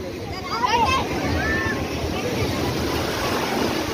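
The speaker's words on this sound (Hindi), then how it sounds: "पानी बहुत ऊपर है चढ़ा हुआ है पानी और इतना ऊंचाई पर आ रहा है" High sea waves wash steadily onto rocks at Karachi beach near Mubarak village, a broad roaring surge with constant wind buffeting the microphone; voices and faint distant calls sit under the continuous water noise.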